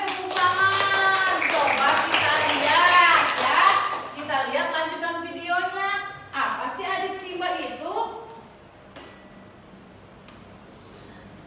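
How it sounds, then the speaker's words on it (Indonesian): A class of fourth-grade students claps their hands in a classroom while children's voices chant loudly over the clapping, fading toward the end. "Oke, tepuk tangan."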